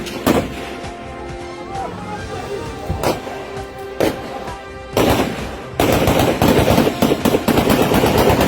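Gunfire during a political clash in Kotli, repeated loud shots in an irregular rhythm, with a dense rapid volley in the final seconds over a noisy outdoor background.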